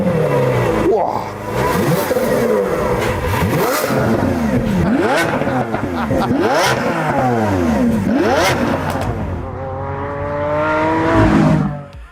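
A 2017 Lamborghini Aventador S with its 6.5-litre V12 and new exhaust system revs hard through repeated loud, rising and falling sweeps, ending in a sharp crescendo close by.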